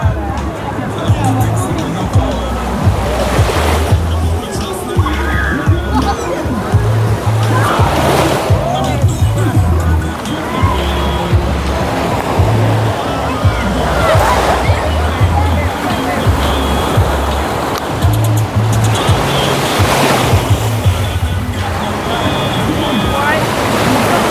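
Rough ocean surf at White River beach in Jamaica, with loud continuous waves washing and sloshing under steady crowd babble and nearby voices talking.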